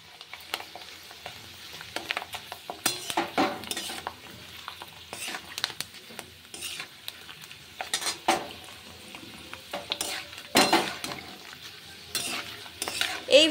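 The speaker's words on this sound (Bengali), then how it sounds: "এইভাবে তেলের মধ্যে আলুর পাঁপড়গুলো আমি ভেজে নিচ্ছি" Potato papad chips sizzle as they fry in hot refined oil, with bubbling and repeated stirring and clinks of a utensil against the pan, close by, with no talk.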